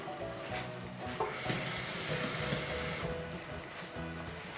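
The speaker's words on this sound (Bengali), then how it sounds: "মশলাগুলোকে ভালো মতো কষাতে হবে" Spices and ginger paste sizzling and frying in a pan for chicken pulao, a steady hiss with intermittent stirring scrapes and clinks, fairly close and moderately quiet.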